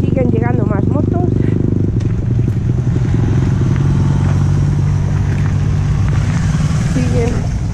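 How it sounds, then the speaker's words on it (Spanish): Several motorcycles rumble nearby at a winter motorcycle rally, engines chugging and rattling as they roll in, with faint voices and clatter in the background. "Siguen llegando más motos."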